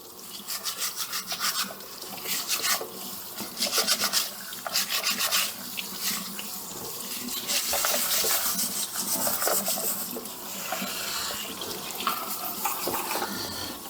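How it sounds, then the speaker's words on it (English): Stiff brush scrubbing and rubbing through the grooves of a waffle maker used for cooking hamburgers, a steady close scratchy swishing that keeps going with short pauses and no talk. "I have a brush here. I get into all the grooves."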